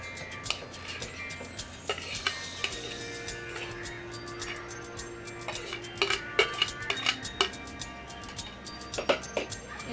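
Grated coconut is mixed by hand with flour in a bowl for coconut pancakes, producing irregular light clinks, scrapes and taps against the dish, close and fairly quiet.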